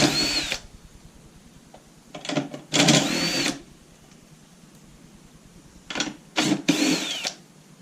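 A power tool backs out 11mm headlight bolts on a Foxbody Mustang in short, loud whirring bursts, several spaced apart with quiet gaps between them.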